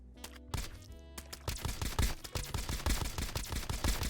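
Rapid bursts of gunfire from the poop gun, a semi-automatic weapon in the game Escape from Duckov, with a few spaced shots giving way to a fast, steady volley of sharp cracks at close range.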